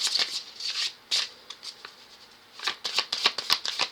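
A deck of cards is shuffled up close in quick riffling bursts, pausing briefly in the middle before a rapid run of crisp flutters and snaps.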